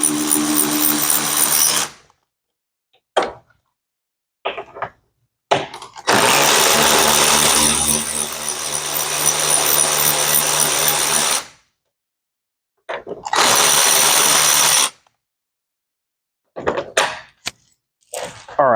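A power tool runs in loud bursts while removing 10 mm bolts from a car headlight housing: a couple of short runs, one long six-second whir, then further brief spurts separated by silence.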